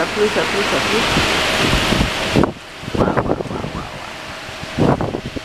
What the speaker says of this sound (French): On vient d'avoir un gros coup de vent. Et ça y est, ça pleut.